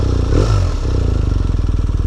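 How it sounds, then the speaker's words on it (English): A BMW R 1250 RS motorcycle's boxer engine cranks with a brief whir, then catches and settles into a loud, close, steady throbbing idle with a rapid pulsing rhythm. "this is a boxer engine,"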